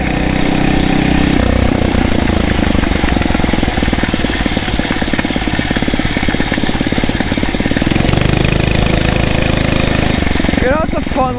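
A stock Phatmoto Rover 79cc motorized bicycle engine with its governor removed, ridden off road, runs loudly and steadily the whole time with a rough buzzing drone that shifts in pitch as the throttle changes, and some faint sounds come through near the end.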